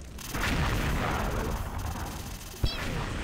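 Water gun shooting in the game XSHOT: a steady, loud hissing spray starts after a fraction of a second and runs continuously, broken near the end by a sharp thump.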